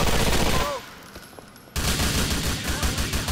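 Dense bursts of rapid gunfire in GTA IV, loud and close, cutting off briefly mid-clip before a renewed heavy volley of overlapping shots.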